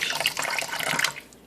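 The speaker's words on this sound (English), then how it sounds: "So all I'm doing here is adding a little bit of water." Tap water running and splashing into a bowl of raw beef being washed for Belizean beef soup, a steady close rush of water on its own for a moment before it tapers off.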